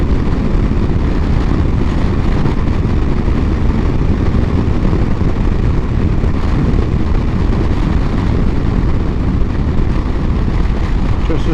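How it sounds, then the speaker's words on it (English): Motorcycle ride filmed on a GoPro Hero 12 Black, with a steady roaring blend of engine drone and heavy wind rush across the microphone, loud and unbroken throughout. "Just to see how we do with the wind noise really"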